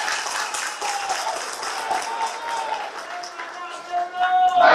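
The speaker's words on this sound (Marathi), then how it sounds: "तेवढ्या तर टाळ्या पडल्या" Dense applause from a crowd at a political rally, steady and fairly close, carrying on for several seconds with a voice and a tonal hum rising near the end.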